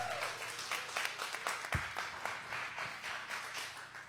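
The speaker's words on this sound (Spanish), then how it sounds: "¿Cuánto le dan un aplauso al Señor?" Congregation applauding for the Lord during a church worship service, a steady dense patter of many hands clapping throughout with a few sharper claps standing out.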